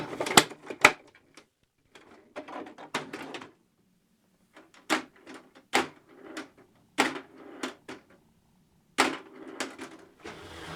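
A series of sharp plastic clicks and snaps as a plastic battery door is snapped onto a 1976 TOMY SlamDunk toy, scattered in small bursts with quiet gaps, close to the microphone.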